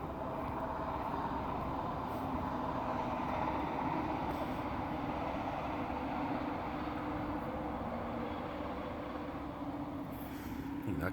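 A train rolls past with a steady, loud rumble and rattle of wheels on track, a continuous mechanical roar holding at constant level throughout with no voices.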